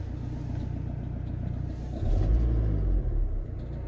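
Ford Transit Connect engine running with a tapping fault, a steady close rumbling idle that swells briefly as it is revved, then settles back, no talk.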